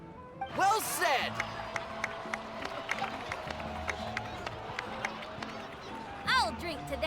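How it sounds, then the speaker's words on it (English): A video game crowd gives a round of applause, steady clapping and cheering under loud voiced dialogue, with swelling bursts near the start and end. "please give another round of applause for them"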